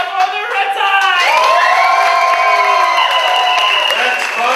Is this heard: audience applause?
yes